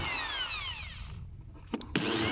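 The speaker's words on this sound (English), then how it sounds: "quickly drill pilot holes on the first one from this side" A power drill bores pilot holes into a wooden beehive roof during assembly, its motor whining down in pitch before two short, sharp bursts as the bit bites again, close by with no talk.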